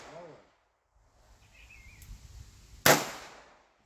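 A single sharp gunshot cracks out near the end, loud and close, after a quiet stretch with light outdoor rustle and a brief voice at the start.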